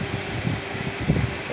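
A Domina 40 cm electric fan runs with a steady, airy whoosh and a low hum, close and constant throughout.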